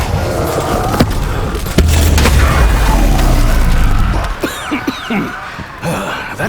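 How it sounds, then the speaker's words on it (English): A large explosion in Call of Duty: Black Ops 4 zombies mode, a loud sustained booming rumble that fades after a few seconds into quieter game sounds. "That was a very large explosion."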